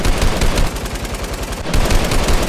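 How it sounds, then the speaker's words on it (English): Rapid automatic gunfire from a Halo Crucible scrimmage simulation, loud dense bursts rattling continuously with a brief dip before resuming, no talk over it. "Opening fire."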